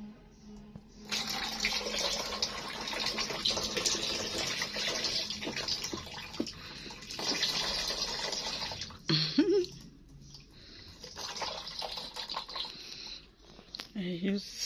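Tap water runs and splashes while a young girl's hair is washed indoors in a single room, a steady gushing stream with short breaks, and people talk over it.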